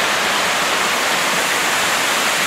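Twin Falls in Kalayaan, Laguna, pours down in a loud, constant broadband rush of falling water, close and unbroken, with no voices over it.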